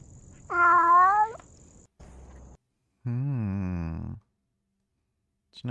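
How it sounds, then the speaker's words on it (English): A cat gives two drawn-out meows separated by a short gap, close and clear against a quiet background, the second lower and longer, with a faint rough rumble between them. "It's a nice cat."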